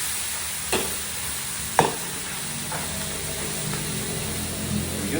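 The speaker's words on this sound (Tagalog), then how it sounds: "Haluin lang natin yan. Igisa natin, siyempre." Pinakbet vegetables sizzle and fry in a clay pot while a spoon stirs them, with steady frying hiss throughout and two sharp scraping knocks of the utensil against the pot.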